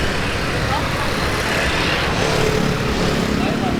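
Steady, dense street traffic in Saigon, Vietnam, a continuous close roar of engines and tyres with a rumbling low end and no breaks, loud and even throughout.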